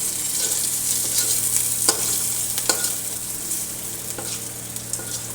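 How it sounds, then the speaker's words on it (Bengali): Chopped onions fry with whole spices (cinnamon, cardamom and cloves) in a pan, a steady close sizzle with a few sharp stirring scrapes and clicks throughout. "সেই পেঁয়াজ কুচিগুলো দিয়ে নাড়তে থাকবো"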